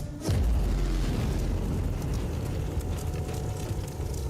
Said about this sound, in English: Yeah, he just causes an explosion.